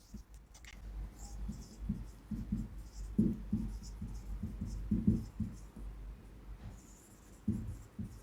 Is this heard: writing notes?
yes